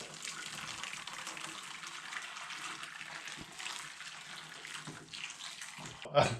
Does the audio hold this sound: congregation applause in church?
no